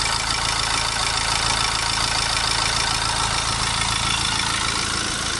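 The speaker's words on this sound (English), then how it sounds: "I'm gonna run this one with the engine running" A BMW Mini diesel engine with a particulate filter fault idles steadily at close range, a continuous low rumble with no voices over it.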